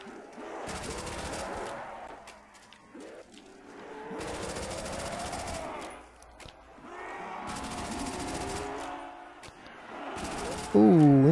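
Bursts of Thompson submachine gunfire shooting zombies in Black Ops, coming in several rapid-fire volleys a couple of seconds long separated by brief pauses, with a live commentary voice heard at times.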